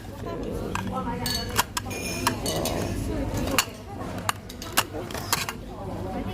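Bowls at an IKEA store clink and knock together in a series of sharp, close ceramic taps, scattered irregularly over quiet background store noise.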